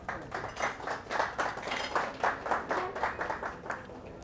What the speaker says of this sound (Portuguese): Merece uma linda salva de palmas,